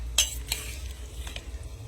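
Potatoes with banana flower frying in a pan give a steady, close hiss of sizzling oil, broken by a few sharp clinks of a utensil against the metal over a couple of seconds.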